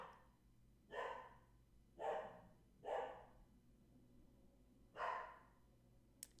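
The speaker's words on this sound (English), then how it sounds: "just going to be barking for the near term because she sees a squirrel or something" A dog barks four times, with single sharp barks spaced roughly a second apart and a longer pause before the last one. The barks are moderately close, with quiet in between.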